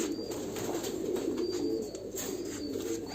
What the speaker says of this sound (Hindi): ये कबूतर है हमारे पास